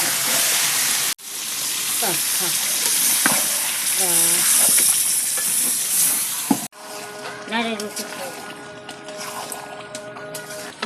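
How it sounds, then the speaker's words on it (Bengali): Broiler chicken sautéing in a pan with a loud, continuous sizzle and hiss and occasional stirring scrapes, close by, while people talk in the background and the sound cuts off abruptly twice. "এখানে ব্রয়লার মুরগিটা কষানো মোটামুটি রেডি"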